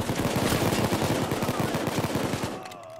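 Rapid, continuous shotgun fire in the video game Payday 2: a dense run of loud, closely spaced blasts for over two seconds, then cutting off abruptly into a quieter tail.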